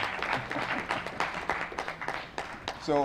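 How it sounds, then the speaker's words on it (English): Scattered applause from an audience at a press conference, several pairs of hands clapping at a moderate level with voices mixed in; a short spoken voice follows at the end. "I think I deserve a round of applause for my negotiation acumen."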